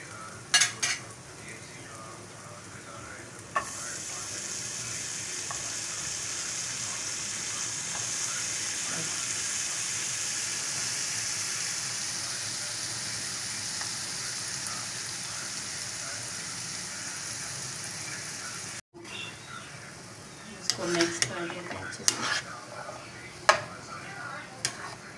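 Potatoes tossed into softened tomatoes in a frying pan give a steady, close sizzle with soft stirring scrapes. Near the end the frying sizzle drops out and a few sharp clicks and clatters follow.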